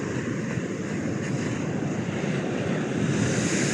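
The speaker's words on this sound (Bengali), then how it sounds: "দেখুন, মাশাআল্লাহ, সাগরের ঢেউগুলো ভেঙে যায়।" Ocean waves break steadily on a beach at Salalah, Oman, a continuous loud, rushing wash of surf with wind across the microphone and no distinct pauses.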